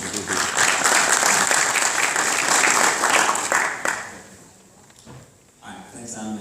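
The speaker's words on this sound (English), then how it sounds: "Big applause to him." Dense audience applause at a conference presentation, steady and fairly loud for about four seconds before fading out, followed by a voice starting to speak near the end.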